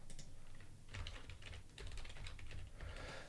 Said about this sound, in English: We're going to type PowerShell.